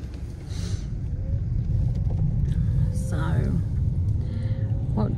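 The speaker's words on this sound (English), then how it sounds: "There's loads of bin lorries everywhere." Garbage trucks move around a residential street on bin day, giving a steady low engine rumble close by, with brief faint voices and small sounds over it.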